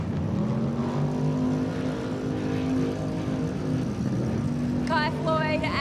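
The Method Race Wheels pro buggy, a desert race car, holds a steady loud engine drone throughout, with a brief higher-pitched burst of sound near the end.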